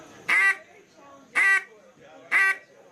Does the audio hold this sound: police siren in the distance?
no